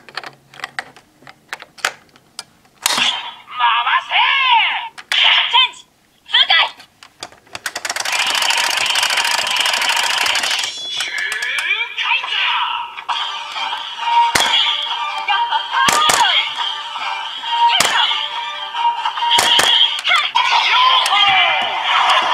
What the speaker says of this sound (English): there's also a bonus set of sounds if you use the Twokaizer gear